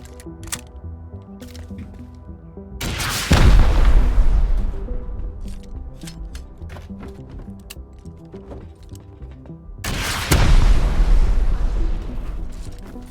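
Rocket explosions in the video game Rust: two heavy, booming blasts about seven seconds apart, each a sharp loud burst with a rumbling decay, over a steady low background hum.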